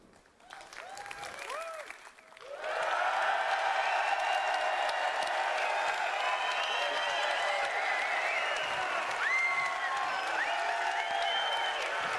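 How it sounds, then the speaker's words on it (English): A large audience at an EA event during E3 coverage in London bursts into loud, sustained applause with some cheering, rising sharply after a brief quieter stretch and holding steady to the end, with no speech over it. "As you can hear, we've got a great crowd here in London."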